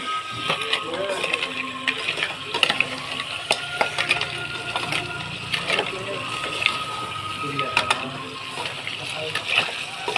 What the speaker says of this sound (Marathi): अशा प्रकारे ढवळून घेतलं पाहिजे व्यवस्थित